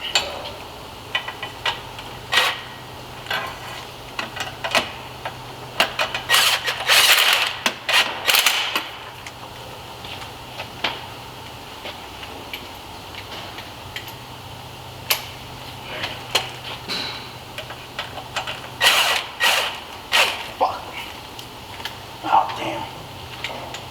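A ratchet tightens a bolt on the exhaust Y flex pipe of a 2007–2016 GMC Acadia, with close bursts of quick clicking and metallic ticks and clanks spread through the clip.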